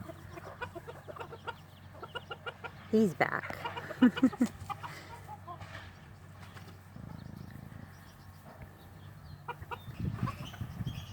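Chickens and roosters, with Silkie chicks, mill about in a pen after a rooster fight, giving scattered clucks and soft peeps, a couple of louder squawks, and rustling, while a person speaks briefly.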